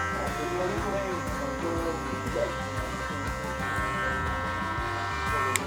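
Electric hair clippers fitted with a 1 guard trim the last line of a mid bald fade on curly hair, giving a steady close-up buzz that runs throughout beneath continuous talking.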